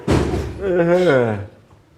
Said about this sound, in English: Nneka, close my door